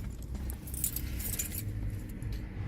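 A bunch of 2015 Jeep Grand Cherokee keys with remote fobs jangles and clinks softly nearby, in short bright metallic bursts over a low background hum.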